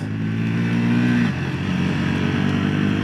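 A 2025 Triumph Scrambler 400X motorcycle ridden at speed and clicked up a gear with its quick-shift assist, the steady engine drone dropping in pitch mid-clip and then pulling again, close and loud over wind noise.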